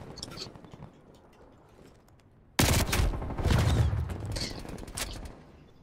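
Rapid bursts of gunfire from a Milano submachine gun in Call of Duty Black Ops Cold War, faint scattered shots at first, then a sudden loud sustained volley of automatic fire from about halfway through.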